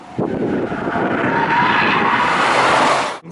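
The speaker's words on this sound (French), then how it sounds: "les pneus à faible résistance au roulement crissent vite" Low rolling resistance tyres on a 2015 Audi A3 e-tron plug-in hybrid squeal in a loud, sustained screech lasting about three seconds before cutting off abruptly, heard close with no talk.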